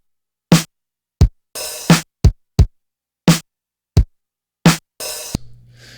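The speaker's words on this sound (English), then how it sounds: "So I just took like a vintage drum sound, which sounded like this." Dry, punchy vintage drum hits play a sparse, uneven pattern, with sharp kicks and a few longer snare-like strikes, and nothing else.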